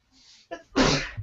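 A single loud sneeze bursts out close to the microphone after a soft inhaling build-up, followed by a brief murmur.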